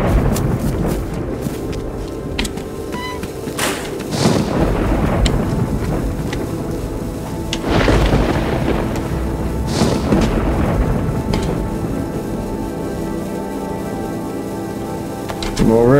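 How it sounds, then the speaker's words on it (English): Thunderstorm in the survival game DayZ on the Namalsk map, with repeated loud thunder cracks and deep rolling booms over constant rain, while a voice talks faintly beneath the storm. "Not another storm's coming."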